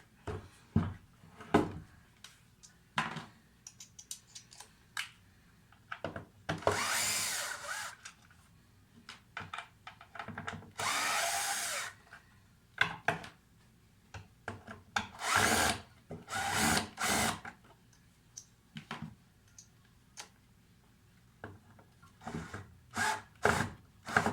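A power drill backs out T15 screws from the inside of a Camaro headlight housing, in short whirring bursts with a few longer runs separated by pauses, close and loud with no talking.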